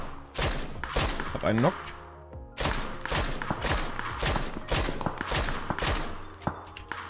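Loud bursts of gunfire in the battle royale shooter PUBG, with repeated volleys of shots spread through the clip and a brief voice speaking between them.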